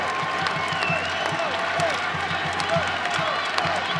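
Crowd noise at an NCAA women's volleyball tournament second-round match between Cincinnati and Pittsburgh, a steady roar of cheering with scattered shoe squeaks, heard at set point under continuous commentary.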